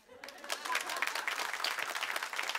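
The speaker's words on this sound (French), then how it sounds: "Et maintenant, on peut applaudir." A gathered audience at a church talk breaks into applause, starting abruptly after a brief quiet moment and continuing as a fairly soft, dense patter of many clapping hands.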